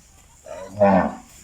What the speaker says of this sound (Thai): ฟ้าสายต้องมาฝึกเลี้ยงวัวกับปู่แล้วแหละ